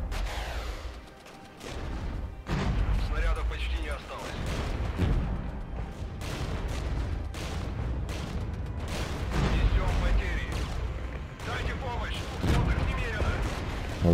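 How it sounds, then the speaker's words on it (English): Artillery barrages and gunfire rumble through a Regiments battle, with repeated heavy booms and crackling impacts layered continuously under talk. "Lots of artillery coming in."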